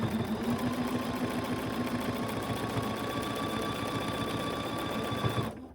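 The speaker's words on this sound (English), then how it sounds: "So you can see that nice top stitch that helped to enclose this seam." Close and steady, a sewing machine runs continuously while top stitching a seam on a pre-cut fabric mask, a fast even mechanical whir that stops abruptly at the end, with no one speaking.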